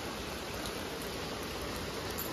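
Light rain falling steadily outdoors, a soft continuous hiss of fine drops with no distinct pattering, even and unbroken throughout, with no talking.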